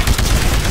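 Small arms gunfire in a first-person shooter video game, a dense, continuous rattle of shots through a short loud burst.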